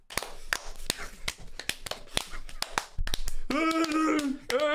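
A small group claps loosely and unrhythmically to imitate an audience, with scattered sharp claps close by for several seconds before a voice takes over.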